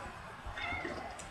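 A white cat gives one short, close meow that rises and falls over a quiet room background, with no talking.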